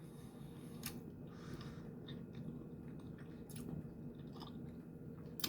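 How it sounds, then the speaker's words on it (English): Close, quiet chewing of spaghetti and meatballs, soft squishy mouth sounds continuing steadily with a few faint clicks over a low room hum. "Sorry, I'm still chewing."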